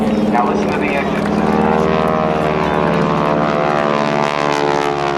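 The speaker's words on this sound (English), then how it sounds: "Now listen to the engines." Propeller engines of a plane flying at a naval air station airshow drone loudly and steadily, a rich throbbing hum that holds close for several seconds.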